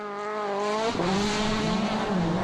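Petter Solberg's rally car braking through a sequence of corners at WRC Rally Australia 2011, a close engine note that holds steady, dips sharply under braking, then picks up again.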